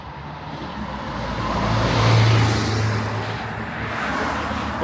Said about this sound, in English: And here comes a random coach.